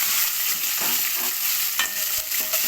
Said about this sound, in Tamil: தோல் பிரிஞ்சு வர அளவுக்கு நம்ம வதக்க போகிறோம்.